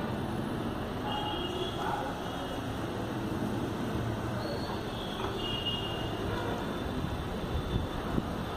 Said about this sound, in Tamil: இங்கே ரொம்ப காற்றா இருக்கு, காற்றுல எல்லாம் பயங்கரமாக பறக்குது